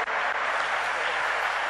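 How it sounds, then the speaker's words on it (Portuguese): Church congregation at a camp service breaks into continuous applause, a dense, even wash of many hands that holds steady and fairly close throughout. "Aplaude a Jesus"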